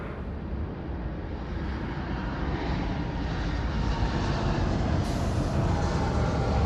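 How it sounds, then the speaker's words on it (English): Alaska Airlines flight 696 from Seattle arriving at LAX, a loud, steady jet engine roar that swells slightly over the clip with no voices. "Alaska 696 flying in from Seattle, Washington."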